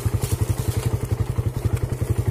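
A city motorcycle, a Suzuki Satria FU, labouring up a steep forest trail, its engine thumping in a fast, even pulse close to the microphone with no talk.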